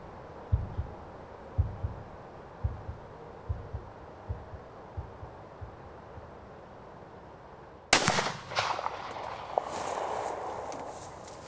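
A hunting rifle fired at a buck during a German hunting season: one sudden loud, sharp crack near the end, after soft rhythmic thumps, followed by a lingering rumbling tail.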